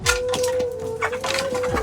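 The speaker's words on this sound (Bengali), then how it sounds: "ওই দেখো কত মুরগি" Several chickens on a rooftop garden cluck in short, scattered bursts at moderate distance over a steady low hum.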